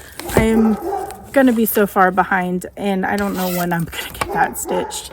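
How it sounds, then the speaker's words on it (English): A large puppy barks at a distance in the background, heard faintly beneath a person who talks continuously in the foreground. "Sorry if you can hear the dog barking."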